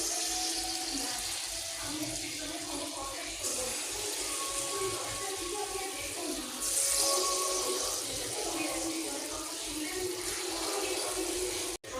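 Taal (palm fruit) fritter batter frying in hot oil gives a steady, dense sizzle and crackle heard up close, continuous for the whole stretch.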